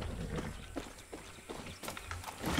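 Horse hooves clip-clop in the video game Far Cry 6, a steady walking rhythm of hoof strikes at moderate volume with a faint voice briefly present.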